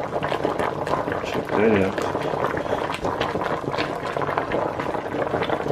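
A pot of watercress boil-up bubbling at a steady rolling boil, loud and close, with a continuous gurgling rumble and a brief voice speaking over it.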